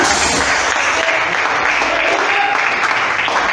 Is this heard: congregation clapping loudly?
yes